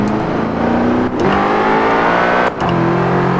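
A BMW M5 engine in Forza Horizon 4 revs hard through gear changes, loud and steady with two short dips where shifts happen, no talking.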